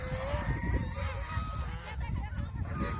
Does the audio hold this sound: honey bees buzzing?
no